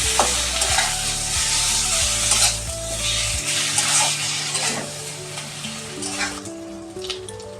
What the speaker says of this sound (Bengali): এবার একটু লঙ্কাটাও আমি এর সাথে ভেজে নেব